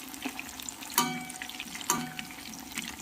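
Chicken pieces fry in hot coconut oil and get turned, giving a soft continuous sizzle with two sharper scraping clatters about a second apart. The sound stays fairly faint and no one talks.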